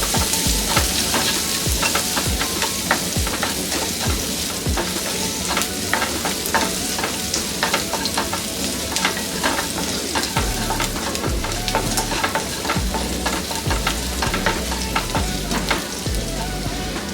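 Okra, cut for a chutney, frying in a pan, giving a steady dense sizzle throughout with the scrape and clatter of stirring on top, close and continuous, with no voices.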